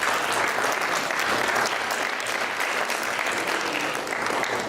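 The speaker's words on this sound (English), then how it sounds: "So give him a round of applause too" Dense applause from a crowd of diners at a Unity Dinner, steady and moderately loud for several seconds, with no voices standing out.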